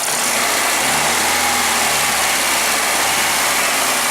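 1996 Suzuki X-90 engine idling steadily up close, a loud even hum with a faint light ticking of valves beneath it, no voices.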